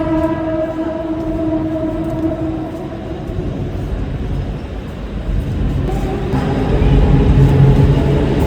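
Steady loud rumble of a moving Mumbai suburban train from inside a carriage, with rattling wheels and a low drone that swells toward the end.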